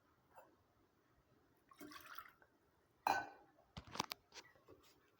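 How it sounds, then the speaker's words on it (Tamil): Water is poured into a cooking pot of cowpea curry, heard as a few short, faint splashing and trickling bursts separated by near silence. "தண்ணி ஊற்றிக்கோங்க"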